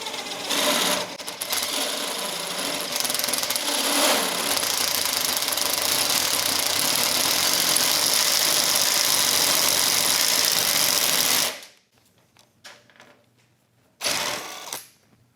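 A DeWALT prototype impact driver bores a hole with 3-in-1 oil as lubricant, giving a loud, steady mechanical whir and grind for about eleven seconds. It cuts off abruptly, and a short burst returns near the end.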